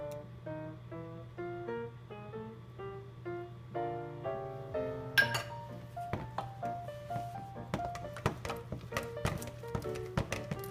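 A spoon stirs egg into choux pastry batter in a bowl, giving repeated soft knocks and taps that grow more frequent in the second half, over steady background music.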